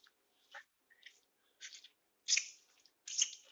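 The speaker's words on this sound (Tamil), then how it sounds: "फ्रेंड्स நான் இப்ப சில்லி பைட் பண்ண போறேன்." Teeth bite and chew through a fresh chilli up close, giving a string of short, crisp crunching snaps spaced irregularly, the last two louder and sharper, with no talking over them.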